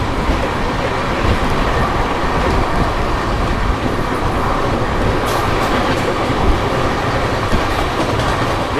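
A Begampura Express train passes another train at a crossing, heard as steady loud rolling rumble with clickety-clack wheel rhythm throughout, continuous and close.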